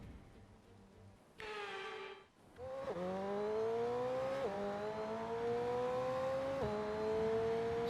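McLaren 720S supercar engine in the racing game F1 22, droning loud and steady after a brief burst, its pitch climbing through gears with sharp drops at each upshift, no talk over it.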